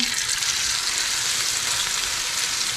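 Steady, loud sizzle of hot cooking oil heating in a pan before papaya and shrimp fritters (ukoy) go in, a continuous close hiss with no talk.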